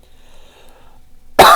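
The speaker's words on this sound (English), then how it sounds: "it's as difficult as me trying to clear my throat." A person suddenly clears their throat with one sharp, loud, close burst right at the end, after a stretch of near silence.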